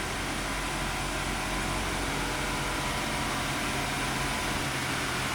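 A car engine idles steadily while the cooling system bleeds air after a tune-up, a constant loud drone with fan-like hiss and no variation throughout.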